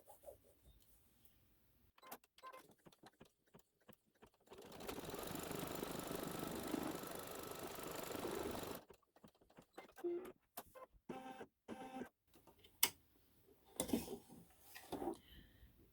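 An embroidery machine stitches a tack-down outline, with a few seconds of steady mechanical whirring and then short, irregular bursts of stitching and clicks, all fairly faint.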